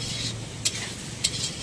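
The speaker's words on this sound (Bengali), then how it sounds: "এটাকে এখন ভালো করে কষে নেব।" Food stir-fried in a pan with a little turmeric gives a steady close sizzle, broken by two brief scraping strokes of a spoon against the pan.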